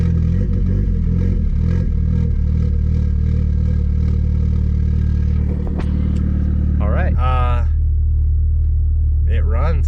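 A Mk4 Jetta 2.0 turbo engine idles steadily with a smooth, even low rumble just after its ECU swap, running close by throughout while someone talks briefly over it.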